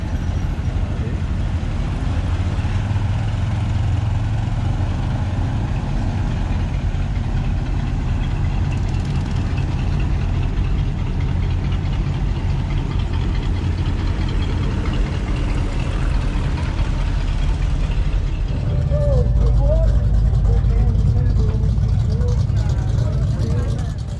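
A 1954 Chevy 3100 pickup with a homemade box on the back idles at a truck show, a steady low rumble that swells louder near the end, with ambient crowd noise.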